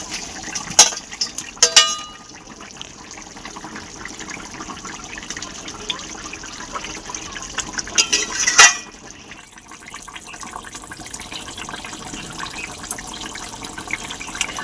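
Rohu fish curry with potato and eggplant simmering in a pot, a low continuous bubbling and liquid wash with a few sharp clinks and splashes scattered through, close and fairly quiet, without talk.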